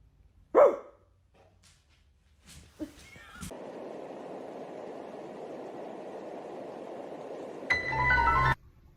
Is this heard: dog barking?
yes